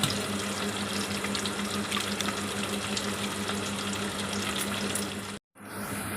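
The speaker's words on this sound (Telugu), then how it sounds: "నీళ్ళు పోసి నానబెట్టేయాలండి." Water poured into a bowl to soak tamarind in a home kitchen, a steady close splashing stream for about five seconds that stops abruptly.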